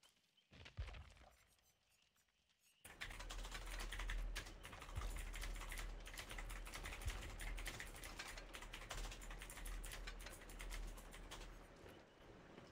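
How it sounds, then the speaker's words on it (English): Angry, rapid typing on a computer keyboard clatters densely after a quiet start, a fast burst of hard keystrokes continuing to the end without speech. "Oh, Aston is angry on the keyboard"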